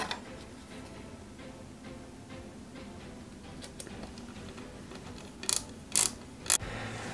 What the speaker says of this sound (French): Donc là, on y va délicatement, on visse.